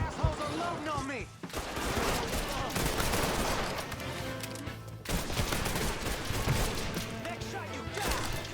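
Gunfire rattles through a Mafia III shootout, with bursts of automatic fire and crashing impacts kept up under shouted voices throughout.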